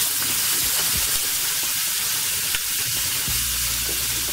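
Onions hit a hot pan where seal flipper has been seared to a crust, producing a loud close crackling sizzle with a steady hiss and occasional pops throughout.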